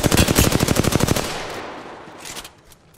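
Rapid automatic gunfire in a shooter video game rattles loud and close in a fast burst of about a dozen shots, then cuts off, leaving a fading tail and a couple of faint distant shots.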